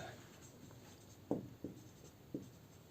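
Marker or chalk writing on a board during an accounts lesson, a few short scratchy strokes spaced out over a quiet room, faint and close, with no talk over them.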